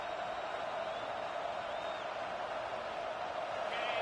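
A broad, continuous roar of a large crowd in the video game College Football 26 fills the stadium, steady and distant-sounding, with faint whistles rising above it.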